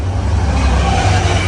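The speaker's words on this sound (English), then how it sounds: "that was the Jamaica to Port Jefferson train" A Long Island Rail Road diesel train from Jamaica to Port Jefferson rolls past Mineola station at night, a loud continuous close rumble and roar filling the whole stretch.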